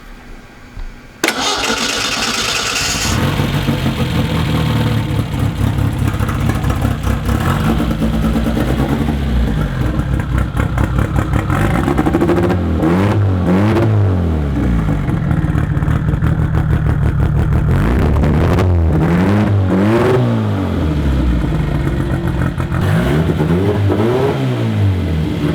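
A turbocharged four-cylinder engine in a mid-engine Datsun 240Z starts up and idles roughly, then revs hard several times, rising and falling in loud, close sweeps.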